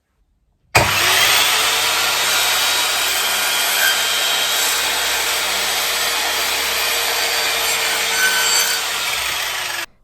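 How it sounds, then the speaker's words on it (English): A miter saw cuts through a length of polystyrene coving in one steady, loud pass, a continuous whining rasp that holds for about nine seconds and then stops. "make sure that it's pushed up against the back of the miter saw to make sure that it's flat on the bottom, and then I can make my cut."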